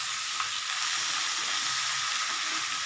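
Small tengra fish fry in a pan with mixed vegetables and green peas for a chorchori, producing a constant close sizzle and hiss with light stirring, even in level and free of speech.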